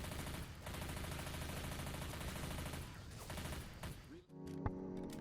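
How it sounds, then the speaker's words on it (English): An MP5 submachine gun fires in rapid, dense bursts in Left 4 Dead 2, loud and continuous for about four seconds before a short pause and a few sharp single shots. "The MP5 joins the battle as a new submachine gun."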